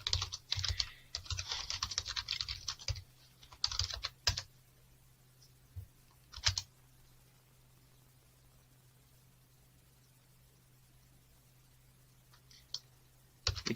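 Rapid clicky keystrokes on a computer keyboard as a command is typed into a Linux terminal, a dense burst of typing for about four seconds, then a few isolated key presses over a low steady hum.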